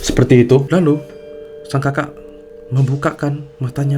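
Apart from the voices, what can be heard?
No everyday noises stand out.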